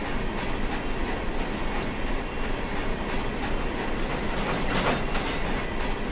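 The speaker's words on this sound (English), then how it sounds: "We're talking about that train that just went by the yard." A freight train rolls past a rail yard in the Run 8 train simulator game, a steady, loud rumble of wheels and cars with rhythmic clatter and a faint squeal, continuous throughout.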